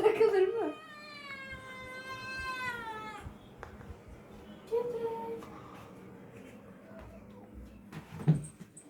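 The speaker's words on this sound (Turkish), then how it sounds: "Aa miyavladı. Ağlıyor." A long, drawn-out cat meow rises and falls, followed later by a shorter mew, with quiet room noise and faint speech between.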